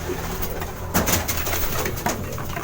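Racing pigeons returning to the loft during a training toss, soft cooing and brief wing flutters against steady outdoor background noise, close by with no talk.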